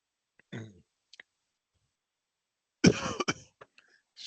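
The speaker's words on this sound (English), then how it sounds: "I apologize for coughing so much tonight" A person coughing during an evening project management workshop: a short cough, a brief pause, then a louder burst of coughing and throat clearing, close and in an otherwise quiet room.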